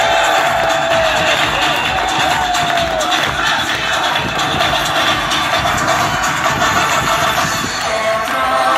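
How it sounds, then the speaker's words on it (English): Loud, dense crowd noise from a hotel entertainment show audience in Icmeler, Turkey, cheering and applauding continuously throughout, with whoops rising over a steady roar. "With your big applause"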